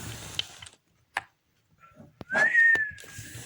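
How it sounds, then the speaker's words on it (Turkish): A person whistles a single rising then level tone near the end, brief and fairly loud, following scattered clicks and soft rustling. "Ve ıslık çalıyordu."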